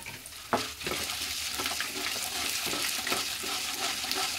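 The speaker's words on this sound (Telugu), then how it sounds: "సో ఇప్పుడు ఇందులో తుంచి పెట్టుకున్న ఒక 10 నుంచి 15 ఎండు మిరపకాయలు వేస్తాను." Dried red chillies and peanuts fry in a pan with a bright, steady sizzle, marked by repeated scraping strokes of a stirring spoon.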